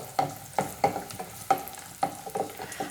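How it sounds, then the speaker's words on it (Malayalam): Raisins tossed into hot ghee with cashews turning golden, stirred in a pan with soft sizzling and a few irregular scraping strokes, close and fairly quiet, no voices. "നമുക്കിനി ഇതിലേക്ക് കിസ്മിസ് ചേർത്ത് കൊടുക്കാം"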